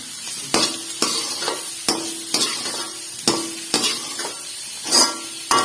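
Chopped capsicum fries in a pan for spicy masala pasta, with a loud close sizzle and a regular series of spatula stirs and scrapes roughly every second, without talk.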